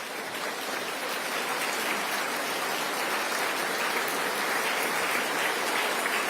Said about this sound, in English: Please stand so we can give you some applause as well.